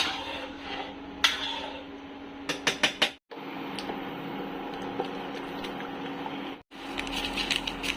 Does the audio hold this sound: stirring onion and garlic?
yes